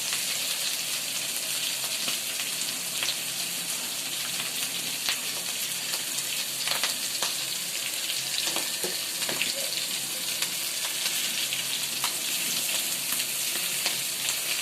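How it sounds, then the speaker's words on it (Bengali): Fish pieces, including a large fish head, frying in hot oil in a home kitchen, giving a loud, dense, continuous sizzle with scattered crackles and pops throughout, no voices. "এটা ভাজার বাকি আছে, আর এটি ভাজা হচ্ছে"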